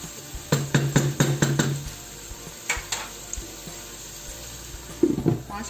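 Water poured into tomatoes cooking in a pan, giving a burst of sizzling and clattering splashes over the first couple of seconds, then quieter stirring and a few soft knocks of utensil against pan.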